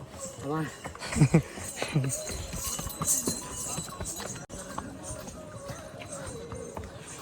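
Horse hooves clip-clop on a mountain path on the pilgrimage route from Katra to Shiv Khori, a steady uneven clatter under people talking and general outdoor crowd noise.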